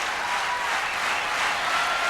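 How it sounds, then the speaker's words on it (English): A tennis crowd at Roland Garros during the 1998 French Open applauds and cheers Agassi, a dense, steady wash of clapping with no pause. "Crowd urging Agassi on."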